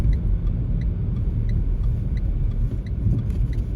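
Car engine rumbling steadily on a driving test route at Cheetham Hill, as heard from inside the cabin while turning at a roundabout, a constant low drone with no speech.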